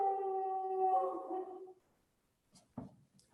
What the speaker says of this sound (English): the dog's going a little bit crazy here